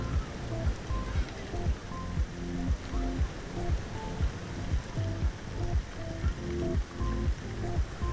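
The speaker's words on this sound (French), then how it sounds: "Alors là, c'est des jets d'eau." Water jets splash steadily into a public swimming pool, a dense rushing patter that pulses rhythmically, near and fairly loud with no talk over it.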